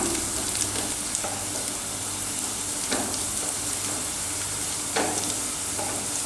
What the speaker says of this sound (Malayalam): അപ്പോൾ നെയ്ക്കകത്ത് ഉള്ളിയൊക്കെ നന്നായിട്ട് മൂപ്പിച്ചതിന് ശേഷം കരളിട്ട് കൊടുക്കാം